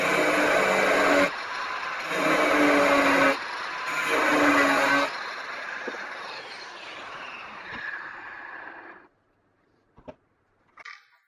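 An angle grinder cuts through a bus roof in three loud, rough bursts of grinding with short pauses between them, followed by quieter scraping and a few faint knocks.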